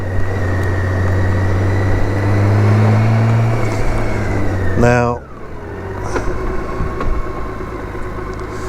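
BMW K1600 GTL motorcycle's inline-six engine, a steady loud drone with rising and falling tones on a sunny ride. An abrupt shift changes the pitch partway through, and someone talks over it.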